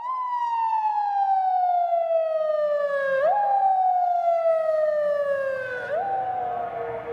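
Emergency siren wailing loud and close, in long descending sweeps that jump back up twice, for an ambulance run by the Edhi service in Pakistan.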